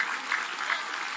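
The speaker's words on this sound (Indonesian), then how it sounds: "Tepuk tangan buat Bu ini." Brief, steady applause from an audience at a religious gathering with Gus Iqdam, a dense wash of clapping that holds at even loudness with no voices on top.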